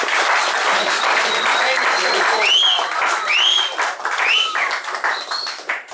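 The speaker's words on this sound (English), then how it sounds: "Let's have a big round of applause, please." Audience applause after a live performance of an original song with violin accompaniment, a broad steady wash of clapping with scattered whistles and cheers rising over it, fairly loud and sustained throughout.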